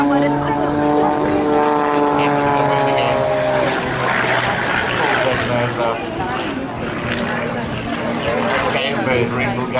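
An unlimited-class aerobatic propeller plane performs at the Stellenbosch airshow in 2024. A loud, steady engine drone with shifting pitch fills the clip, under a commentator's talk and crowd chatter.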